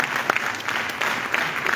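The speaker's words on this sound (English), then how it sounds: "I'll clap for him" An audience applauds with moderately loud, continuous clapping, with a few sharper individual claps standing out from the crowd.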